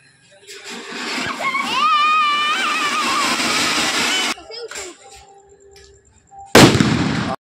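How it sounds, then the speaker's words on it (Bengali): Diwali fireworks outdoors in an open field at dusk: rising whistling tones over a loud rushing hiss, then sudden sharp bangs and crackling bursts, with people talking nearby. "এখানে এখন বাজি ফুটাচ্ছি, তোমরা দেখো"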